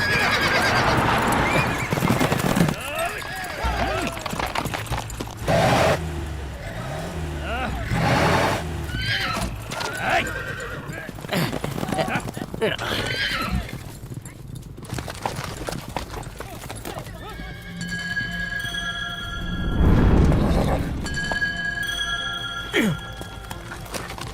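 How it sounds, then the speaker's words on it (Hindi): Horses neigh and whinny loudly several times amid clip-clopping hooves during a rough buzkashi game, where riders fight over a dead goat, with voices talking over the commotion. "ये शोर कैसा? अरे डरो मत, ये खतरनाक खेल खेल रहे हैं बुशकाशी।"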